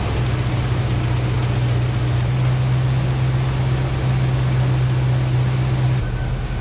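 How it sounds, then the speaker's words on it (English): A carbureted 1986 Chevy 305 V8 with HEI ignition idles close by, giving a steady, even rumble with a low hum. It runs unchanged with no talk and drops off just before the end. "this is a carbureted Chevy 305, 1986"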